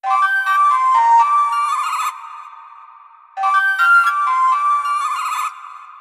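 A bright, bell-like sampled synth lead plays a quick high melodic phrase with echoing delay repeats trailing off, then the phrase repeats, loud and close.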